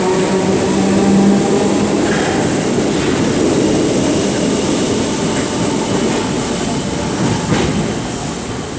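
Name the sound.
Merseyrail 507 electric train departing station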